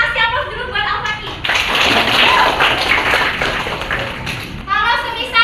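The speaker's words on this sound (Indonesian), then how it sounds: "Kasih aplaus dulu buat Al-Fatih" Children in an elementary school classroom break into a burst of applause lasting a few seconds, dense and close, with a voice talking just before and after.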